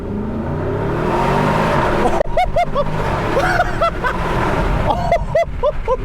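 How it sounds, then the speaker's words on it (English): A 2023 Porsche Cayenne Turbo GT with a titanium exhaust thunders loudly through a tunnel, a steady roar suddenly breaking into sharp revving bursts and crackling pops that echo off the walls. "Now that exhaust system in this car is that titanium exhaust system, which is even louder and lighter weight"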